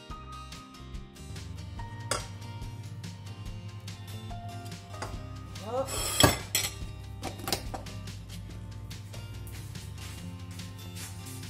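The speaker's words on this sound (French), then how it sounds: "Donc on va bien mélanger la crème." A utensil works cream around a bowl for coffee cupcakes, giving repeated clinks and scrapes of metal on the bowl, with one sharper, louder clatter midway over a low steady hum.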